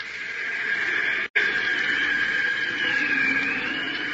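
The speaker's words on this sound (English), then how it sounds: "That's the artificial wind your car creates when you're driving around 30 miles an hour." Steady rushing wind noise as a car moves at about 30 mph, a broad continuous hiss with a brief dropout near the start, then constant and fairly loud, alone without voices.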